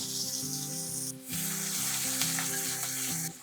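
Crushed green chili paste drops onto roasted peanuts in hot oil, bringing a steady loud sizzle and crackle close by, with a low steady hum beneath and no voices.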